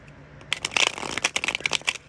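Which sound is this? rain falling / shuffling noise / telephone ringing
shuffling noise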